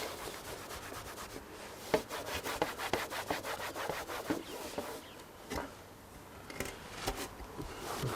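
The outer covers of a Pye monitor are scrubbed clean of dirt in steady, rhythmic rubbing strokes, close and fairly quiet, with a few short pauses between passes.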